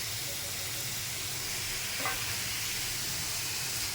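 Taro flowers fry with turmeric and salt in a pan, giving a constant dense sizzling hiss that stays even and close throughout, with no speech.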